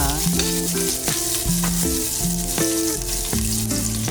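Garlic and onion sauté in a pan for a chicken dish, making a constant crackling sizzle that sits beneath loud tonal music playing throughout.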